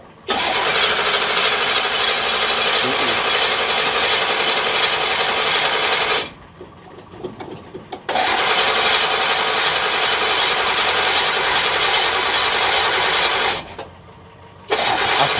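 A 1963 Chevrolet Impala's starter cranks with a loud, close, raspy grinding that runs for about six seconds, pauses, cranks again for several seconds, then pauses briefly and resumes, with no sign the engine catches.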